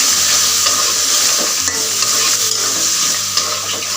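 Jackfruit seeds and spice paste with slit green chillies stir-frying in a pan for a fish curry, a loud continuous sizzle with scraping of a spoon against the pan.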